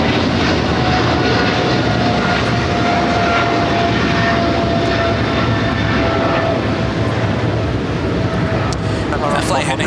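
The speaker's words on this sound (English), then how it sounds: "That flight heading to Shenzhen at China Southern Cargo, flight 446, a 777 freighter" A China Southern Cargo Boeing 777 freighter at Los Angeles airport, bound for Shenzhen, produces a loud, sustained engine roar with a faint whining tone running through it.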